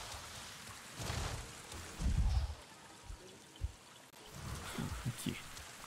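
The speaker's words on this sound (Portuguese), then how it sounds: "Chovendo." Rainfall in the video game Avatar: Frontiers of Pandora, a soft broadband hiss of falling rain with low rumbling swells and brief heavier bursts, fairly faint and steady in the background.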